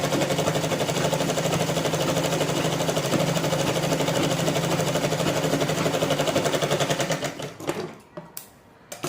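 A sewing machine stitches a blouse seam in one long, loud, continuous run with an even rhythmic chatter. It slows and stops near the end, followed by a few brief clicks.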